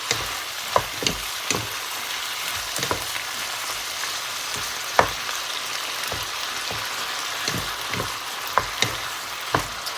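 Chicken stir-fried with ginger and mushrooms in a pan: a constant close crackling sizzle punctuated by sharp clicks and scraping stirs at irregular intervals over ten seconds, with no voice.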